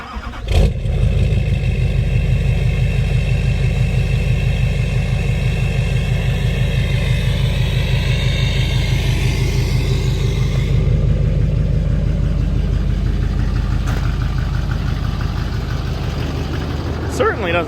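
A Duramax diesel pickup truck engine runs at a steady, close rumble on a short test drive, continuous throughout, with people talking over it.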